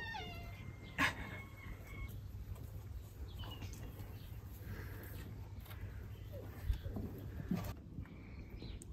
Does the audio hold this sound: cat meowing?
yes